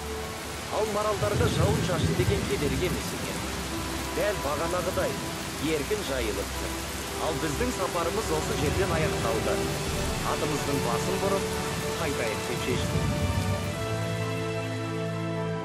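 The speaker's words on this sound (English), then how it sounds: "on a hot summer day, our crew faced the sudden rain" Sudden summer rain in the mountains falls as a steady, dense patter on surfaces, with a low rumble of distant thunder running beneath it throughout.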